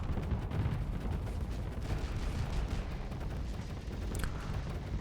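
Ship weapons fire in a Starsector space battle, with a dense continuous barrage of booming low gunfire and rumbling blasts throughout, fairly loud with no talking.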